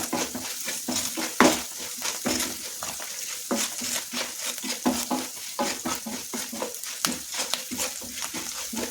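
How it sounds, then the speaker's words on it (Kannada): A spoon repeatedly scrapes and stirs through lemon rice in a hot pan as salt is mixed in, giving a rhythmic series of close scraping strokes over a soft sizzle. "ಉಪ್ಪನ್ನೆಲ್ಲ ನೀಟಾಗಿ ಕಲಸಿ"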